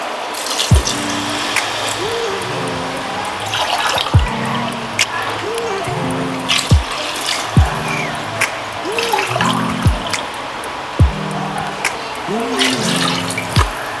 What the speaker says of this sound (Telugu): దీనికి మూడు గ్లాసులు వాటర్ వేయాలి